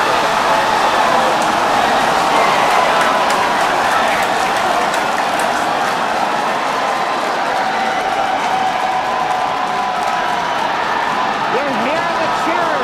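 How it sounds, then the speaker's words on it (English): A crowd cheering and clapping at a SpaceX Starship launch as the booster separates, a dense continuous roar of voices and applause throughout, with a commentator talking over it. "We're hearing the cheering."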